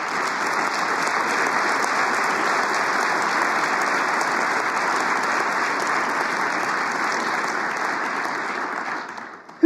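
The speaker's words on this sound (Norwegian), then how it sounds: "og de kan godt gi dem litt applaus." Sustained, even applause fills a party national convention hall for nearly ten seconds, a broad crowd of clapping hands that holds steady before cutting off abruptly at the end.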